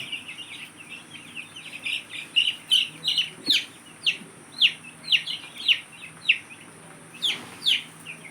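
Chickens cluck and chirp repeatedly on a small poultry farm during brooding time, a busy run of short calls at moderate distance with no talking.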